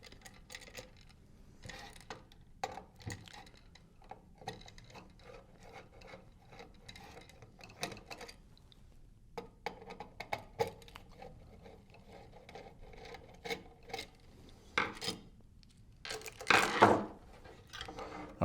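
Four screws being taken out of a junction box cover for load cell wiring, heard as scattered small ticks, clicks and scraping handling noises, close and quiet, with a louder rattling burst near the end.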